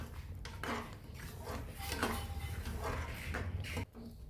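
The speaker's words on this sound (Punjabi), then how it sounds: "ਹੁਣ ਆਪਾਂ ਇਸ ਵਿੱਚ ਐਡ ਕੀਤਾ ਹੈ ਬਟਰ ਤੇ ਇਸ ਨੂੰ ਵੀ ਆਪਾਂ ਚੰਗੀ ਤਰ੍ਹਾਂ ਹਿਲਾ ਦੇਵਾਂਗੇ" A spoon stirs butter into paneer butter masala in a pan, giving repeated soft scraping and clinking strokes against the metal, close and steady over a low background hum.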